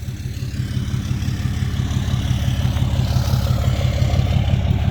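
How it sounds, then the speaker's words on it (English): A tractor engine runs close by with a loud, steady, low rhythmic chug during a flood dig-out of a dually Dodge Ram, holding a constant pace with no talk. "now I'm going to get my tractor in the front"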